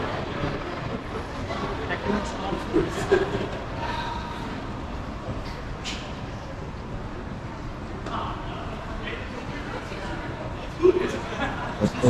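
Ambience of a moderately busy train station in Den Bosch ('s-Hertogenbosch), the Netherlands, on a rainy day, with low rumble, scattered clanks and distant murmur, and occasional voices nearby.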